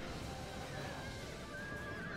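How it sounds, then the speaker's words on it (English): Horses whinny and neigh amid a medieval battle in the strategy game Medieval II: Total War, a drawn-out cry rising over dense, constant clash and crowd noise, with some hoof clatter in the mix. "I hear horses dying, and they sound Scottish."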